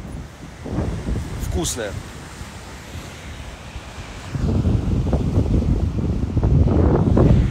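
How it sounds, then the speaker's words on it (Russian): Seaside wind buffets the microphone in a steady, roaring rush that grows stronger toward the end, while someone speaks briefly over it. "а здесь ветер"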